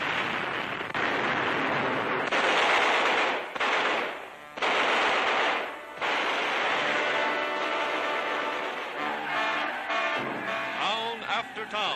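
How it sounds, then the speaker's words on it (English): Dense WWII battlefield gunfire as the British 8th Army advances on Tunis in 1943, sustained bursts of machine-gun and rifle fire with booms, loud and continuous, under a newsreel's music-like background. "the British 8th Army blasting their way to Tunis"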